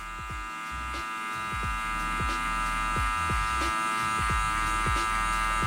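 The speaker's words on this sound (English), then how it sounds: "start almost moving the clipper as if it's creating a ramp" An electric hair clipper fitted with a 1 guard cutting hair during a taper fade, giving a steady buzzing hum broken by repeated short strokes through the hair.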